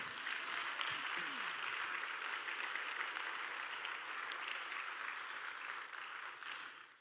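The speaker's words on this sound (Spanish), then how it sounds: "Dele a Dios un aplauso fuerte, hermano" A church congregation applauds loudly and steadily, a dense wash of many hands clapping together that holds for several seconds and fades slightly at the end.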